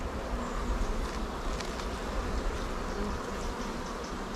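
Honey bees at an artificial swarm hive fill the air with a dense, continuous buzzing, close and loud, many wings droning together without pause and no voices.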